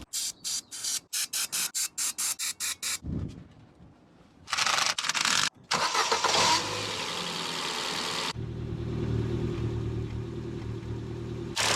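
A Mk1 Ford Escort fitted with an ST170 engine and suffering a slight misfire: a series of short choppy bursts, then a louder rev and a steady running note that carries on close by, with no voices.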